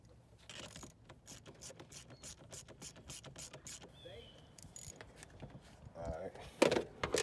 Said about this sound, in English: Tighten this bolt back up.